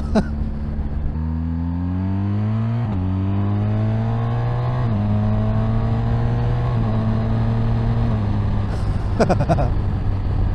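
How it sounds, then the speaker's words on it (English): A 2021 BMW S1000XR motorcycle accelerates hard from close by, its engine note rising through several quick-shifter upshifts in a stepped pattern, with a brief sharper burst near the end. "it gets up to speed pretty quick, but the quick shifter, one of those changes was terrible"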